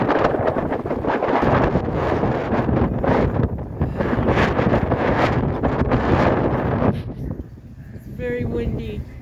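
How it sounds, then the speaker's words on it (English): Strong March wind buffets the microphone at the Milford Mill station of the Baltimore Metro subway, a loud, continuous roaring rumble that surges and eases throughout, with a faint voice and a whistle-like tone appearing as it dies down. "It's very windy."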